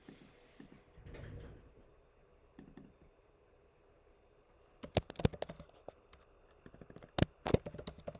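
Computer keyboard keys clatter while notes are typed during forex strategy backtesting, with a few scattered taps early and then dense bursts of quick clicks later, close and fairly quiet.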